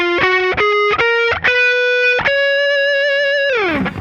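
Distorted electric guitar runs up a D Mixolydian scale in single picked notes, each sustained with a thick harmonic-rich tone, ending in a long held note that bends and slides downward; loud and alone.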